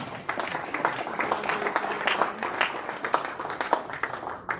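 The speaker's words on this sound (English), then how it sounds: "Big round of applause for Keith" Audience applause at an East Chapel Hill Rotary club meeting, a sustained patter of many hands clapping at moderate volume for several seconds before tapering off abruptly.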